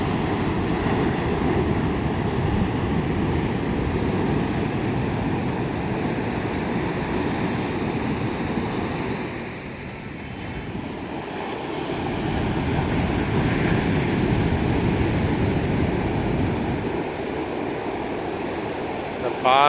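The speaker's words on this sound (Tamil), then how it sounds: "கடல் அலைகள் வேகமாக வந்து கொண்டிருக்கின்றன." Sea waves surge onto the rocky shore at Kodimunai beach near Kanyakumari in a steady, loud broadband wash that swells and ebbs, briefly dipping mid-way before rising again, with no voices.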